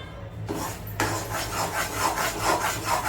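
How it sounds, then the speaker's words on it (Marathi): Flour roasting in ghee in a pan for til-gul poli, stirred with steady scraping and rubbing strokes that repeat in a rhythm, close and moderately loud, with no speech. "सतत ढवळत राहायचं आता ते तूप तुपामध्ये पीठ भाजलं जाईपर्यंत"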